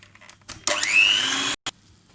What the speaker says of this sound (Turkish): Ve tekrardan mikserle çırpıyorum.